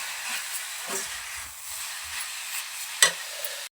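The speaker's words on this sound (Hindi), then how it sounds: "मेरे यहाँ तीली भून की तैयार हो रही है।" Sesame seeds roast in a pan with a dry, steady sizzling hiss, faint bumps of stirring and one sharp clink near the end before it cuts off.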